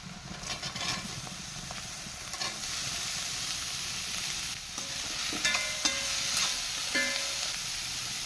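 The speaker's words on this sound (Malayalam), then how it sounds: "അപ്പോൾ തന്നെ നമുക്ക് അരിഞ്ഞ് വെച്ചിരിക്കുന്ന പടവലങ്ങ ഇട്ട് കൊടുക്കാം" Chopped ridge gourd frying and being stirred with onion and green chili in a pan, a steady sizzle with scraping stir sounds throughout, no talking.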